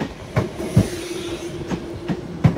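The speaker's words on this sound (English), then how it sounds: "we have this suburb South Western Railway train going out." A South Western Railway suburban train departs Clapham Junction, wheels clicking rhythmically over rail joints in a steady clickety-clack, close and fairly loud, with no talking.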